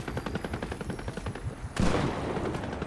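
Rapid automatic gunfire in a video game, a fast run of evenly spaced loud shots followed by a denser burst of overlapping fire, close and continuous, with no talking.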